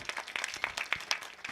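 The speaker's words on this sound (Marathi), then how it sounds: "असे आपले दादा गजरमुक्ताईचा चॅनल ह्यांच्यासाठी एकदा जोरदार टाळ्या वाजवा" Sparse, faint clapping from an audience at a devotional kirtan performance, individual hand claps standing out at an uneven rhythm against a quiet, distant background.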